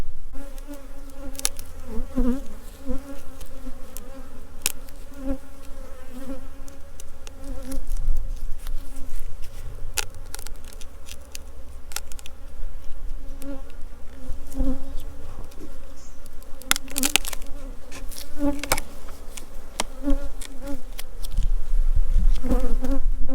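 Dense, steady buzzing of many honey bees close by at a hive, a continuous droning hum with occasional louder passes and faint clicks throughout.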